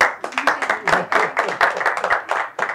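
A small audience at a lecture claps in a short, uneven burst of distinct hand claps, a few people clapping close by, with pulses rising and falling before tapering off.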